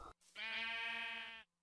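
A sheep in Minecraft lets out one long, loud bleat lasting about a second, with a clear wavering pitch, coming in after a short pause.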